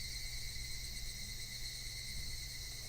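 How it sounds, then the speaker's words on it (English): Cicadas cry in a loud, unbroken summer drone, a steady high buzzing chorus that fills the whole stretch without pause or any voices. "Only the cry of the cicadas remained, annoyingly loud"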